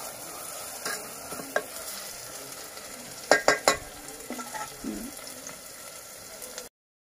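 Chopped tomatoes stirred in a pan while cooking a Konkani-style dry oyster dish, with a soft continuous sizzle, a few light scrapes and a cluster of sharp spoon clinks near the middle, close and moderately quiet.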